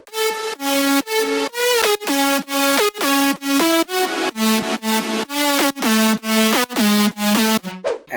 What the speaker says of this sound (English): Then I added reverb automation and pitch automation.